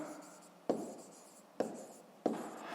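Pen on paper jots down digits for a school maths exercise: three distinct scratchy strokes, each starting sharply and fading, close up and quiet.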